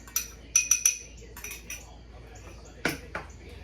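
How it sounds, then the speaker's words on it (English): A utensil stirs a cornstarch mixture into a pot of beef stroganoff sauce coming to a boil, giving several sharp metallic clinks close up early on, then a few softer scrapes and taps with quiet gaps between. "And you're just going to give this a stir."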